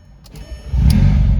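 After a couple of light clicks, a Stage 2 tuned Skoda Octavia vRS with a Valvetronic exhaust bursts into a loud, deep exhaust rumble close by and holds steady.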